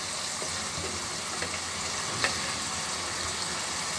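Fish cooking with tomato and spices in a pan over a village kitchen fire, a steady close sizzle and hiss of frying throughout with a faint stirring scrape, no voices.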